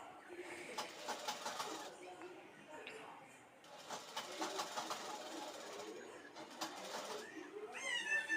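A sewing machine attaches lace trim along a blouse, its rapid motor whir running in several bursts with brief pauses between runs, audible at close range under light background noise.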